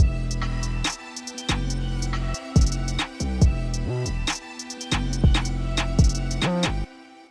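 A full drill beat combining a melodic sample, a deep gliding 808 bass and crisp drums with rapid hi-hat rolls, loud and dense, ending with a brief drop at the close; no voices.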